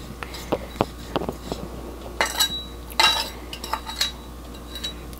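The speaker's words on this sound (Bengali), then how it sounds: "এখন এটাকে এভাবে নাড়তে হবে, নাড়তে নাড়তে গুড়টা থেকে একটা স্টিকি ভাব বের হবে" A spoon stirs a coconut and jaggery filling for sesame pulao pitha in a metal pan, making irregular close scrapes and clinks against the pan, with no talking.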